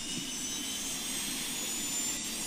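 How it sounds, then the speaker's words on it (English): A jet engine in the video game Scribblenauts Unmasked roars steadily, a constant loud whooshing drone with a thin high whine and no pauses. "It's a friggin' jet."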